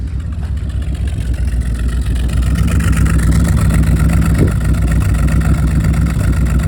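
A Jensen Healey's V8 engine runs steadily at idle, slightly rich, a loud continuous rumble with no talking.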